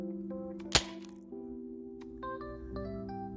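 A Nerf Rival Knockout blaster fires two foam balls at once, shotgun style, giving a single sharp crack near the start. Faint background tones and soft mechanical clicks follow.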